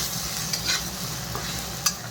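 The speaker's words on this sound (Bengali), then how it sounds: "এগুলো দিয়ে আমি এখন ভালো করে মিলিয়ে দেই, তারপরে সঙ্গে মিশিয়ে দেই।" Fried beans mixed with meat masala are stirred in a pan, a soft continuous sizzle with a few light scrapes of the spoon, fairly quiet and without speech.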